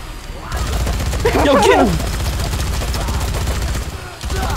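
Gatling gun fire from Dead Rising 3 rattles in a rapid, loud burst over a steady background, with players shouting over it.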